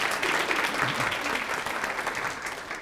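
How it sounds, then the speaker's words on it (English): Audience applause at a mayor's awards ceremony, a dense burst of clapping from an indoor crowd that stays full and steady, then eases slightly toward the end. "So big round of applause for Hetty."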